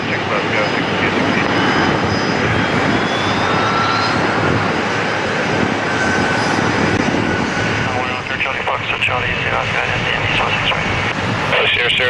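A jet airliner roars steadily down runway 6 left at Toronto Pearson on its takeoff roll, a loud continuous engine rush with a slowly shifting whine, while radio voices talk over it.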